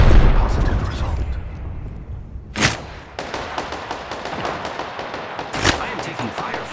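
Gunfire in the Apex Legends video game, two sharp loud shots standing out over a steady busy game mix with continuous rattling bursts in the background.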